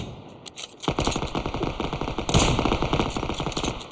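Rapid automatic gunfire from the PUBG battle royale game, dense bursts of machine-gun shots rattling continuously and loudly with a sharper volley midway, no voices over it.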